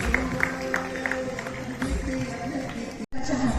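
Applause rises from the audience at the 58th anniversary ceremony of the Balgandharva Rangmandir theatre, steady crowd clapping across the clip under some voices, with a brief dropout near the end.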